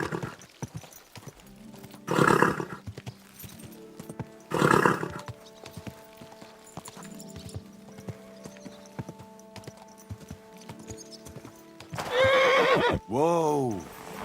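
A horse in the Kingdom Come Deliverance II game gives two loud whinnies, then a final rising and falling neigh, with hoof clip-clops and quieter game sounds in between.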